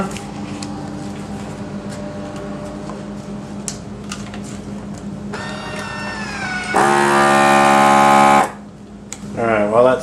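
A heat sealer sealing a homemade MRE bag gives a loud, steady electric buzz for about two seconds, preceded by a rising tonal whine and room noise, then cuts off abruptly with brief clatter after.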